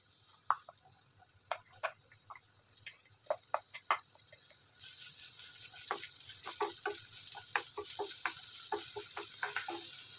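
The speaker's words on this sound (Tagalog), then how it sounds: "So, ayan, magigisa na po tayo. Lagay natin yung ating sibuyas." Onions sautéing in a pan for Filipino kare-kare: a soft sizzle that swells into a brighter, denser hiss about halfway through, broken by scattered sharp clicks and taps of stirring.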